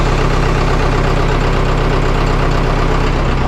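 Vermeer 1800 engine running on its first start in four years, a loud, close, steady rumbling idle with an even rapid pulse throughout.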